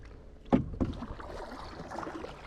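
A canoe on the water, two hollow knocks of a paddle or hull in quick succession followed by quieter sloshing and splashing, close and brief.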